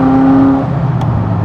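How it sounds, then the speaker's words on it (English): A turbocharged car's turbo swooshes in while driving at speed over undulating road, a loud steady engine drone with a whooshing rush rising over it, close and continuous throughout. "And that turbo noise there, hearing it swooshing in as we go through the undulations."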